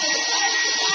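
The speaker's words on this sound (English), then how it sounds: "we've got a hair dryer out and we're warming up her butt with a hair dryer" A hair dryer blows continuously indoors, warming a cold person, a loud, close, steady rushing hiss that fills the whole moment.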